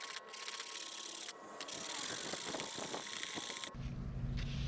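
Flat board rubbed back and forth against the edge of a subwoofer trim ring, a steady close scraping that runs almost unbroken, with a short pause near the start and a low thump near the end.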